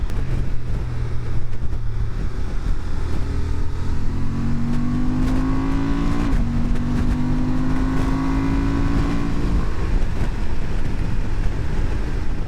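A 2026 Honda Transalp XL750 motorcycle engine revs up and down in smooth rising and falling sweeps, loud and continuous beneath strong wind rush.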